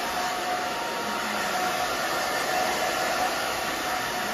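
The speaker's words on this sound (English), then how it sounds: "So you can see I'm just going back and forth with my fingers, blow dryer." Hair dryer blowing steadily and close while styling a short bob, a continuous loud whooshing hiss with no pauses and no talking.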